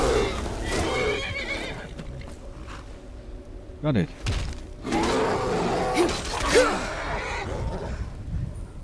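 A Daedric horse whinnies amid Skyrim game sounds and background noise, with a brief thud; a person speaks briefly near the end.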